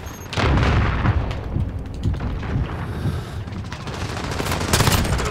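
Dense, loud video-game gunfire from Call of Duty Modern Warfare, a magnum among the weapons, with continuous overlapping shots and booms across the whole stretch.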